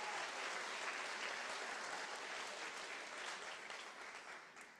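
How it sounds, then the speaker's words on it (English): Applause from a conference audience at a hackathon opening ceremony, a steady dense wash of many hands clapping that carries on throughout and fades slightly toward the end. "Please give him a big round of applause."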